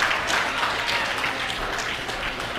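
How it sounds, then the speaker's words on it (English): Wrestling crowd applauding steadily during a 30-second rest between match periods, with no break in the dense clapping from start to finish. "Crowd showing their appreciation. They're standing, showing their respect."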